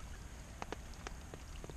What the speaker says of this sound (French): en dessous des arbres, t'as les grosses gouttes